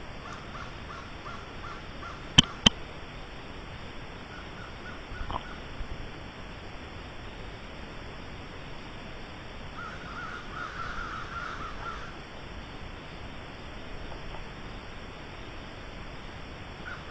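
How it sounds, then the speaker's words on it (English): Crows cawing as they fly in to roost in trees at dusk, a few calls scattered through a steady outdoor background hiss, with a couple of sharp louder sounds near the start. "The crows are starting to come in now to roost."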